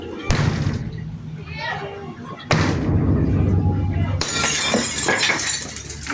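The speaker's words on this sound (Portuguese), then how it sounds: "Vou contar até 3 pra eu te abrir a janela, senão eu vou quebrar." Window glass is smashed three times in loud crashing blows, each followed by tinkling, scattering shards, with voices heard in the background.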